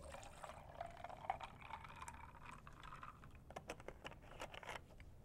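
Liquid for a non-alcoholic margarita being poured into a Ninja blender cup, a faint, close trickling with scattered small clicks and taps.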